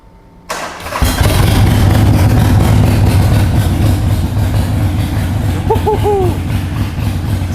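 A custom Harley-Davidson Forty-Eight flat tracker cranks and fires up loudly, settling into a deep, throbbing V-twin rumble with revs held close by, as a faint voice is briefly heard near the end.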